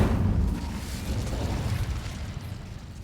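An Incendio fire spell is cast in the video game Hogwarts Legacy, making a deep, heavy whoosh-boom that bursts loudly at the start and then rumbles and fades over a few seconds, with no voices.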